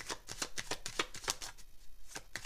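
Tarot cards are shuffled by hand for a reading, producing a rapid run of crisp riffling flicks, close and fairly quiet, with a short pause before the flicking resumes.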